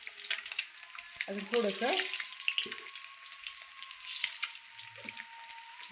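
Fried food being stirred in hot oil after a sprinkle of salt, a steady broadband sizzle with clinks and scrapes of a utensil, while someone talks briefly over it.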